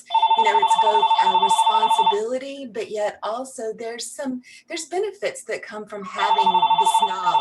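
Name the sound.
telephone ringing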